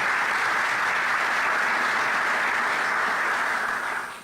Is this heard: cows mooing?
no